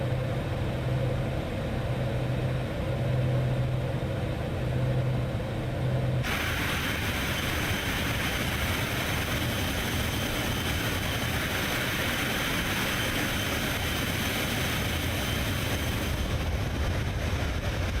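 A Cessna Citation C750 business jet's engines in Microsoft Flight Simulator with the Flight FX sound pack, a continuous broadband roar and whine at cruise that grows brighter partway through, steady and without talk.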